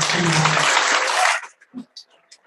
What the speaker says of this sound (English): will you all give a huge round of applause to both Rosanna and